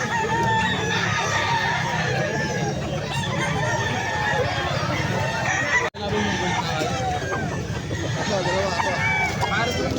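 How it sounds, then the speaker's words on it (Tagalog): Many fighting roosters crow and cluck together at a gamecock market in Angeles City, Pampanga, a dense, continuous din of overlapping calls with a brief cut midway. "Daming manok dito mga kabayan."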